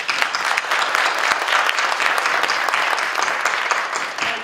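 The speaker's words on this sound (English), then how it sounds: "Please give our speakers a round of applause" Audience applause for the speakers at a teachers union conference, continuous lively clapping from a crowd filling the whole few seconds.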